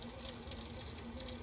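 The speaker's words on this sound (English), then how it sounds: "all that's going to go squirting into" Liquid squirting from an MR injector syringe into a tray, a brief, faint, steady watery hiss like a running tap.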